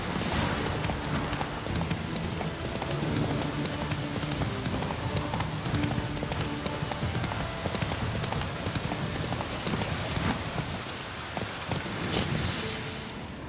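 Horse hooves gallop steadily in The Witcher 3 video game, a fast, continuous clip-clop over a dense bed of ambient game noise, with no voices.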